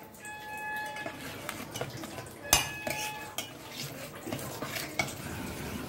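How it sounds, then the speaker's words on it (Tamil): Coconut kozhukattai filling stirred in a pan on the stove, with a steady scraping of a spoon against metal and occasional sharper clanks, close up and moderately quiet. "இதை அடுப்பில் வச்சு கிண்டணும்"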